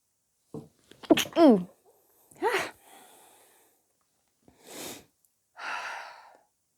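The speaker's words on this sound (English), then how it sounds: "Don't you dare call that a cute sneeze in the comments either." A small sneeze after a quick breathy intake, followed by a few soft breaths and snorts in a quiet room.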